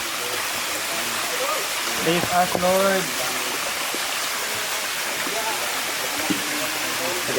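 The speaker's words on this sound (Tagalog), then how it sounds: "Eto na ang aming liliguan na batis." A flowing stream on a farm where people bathe rushes steadily throughout, a constant close watery wash, with a brief voice and some chatter heard over it.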